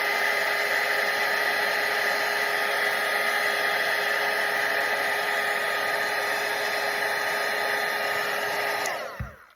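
A hair dryer blows hot air over a watercolour painting of a parrot, giving a loud, steady whine and rush that holds level and then cuts off abruptly near the end.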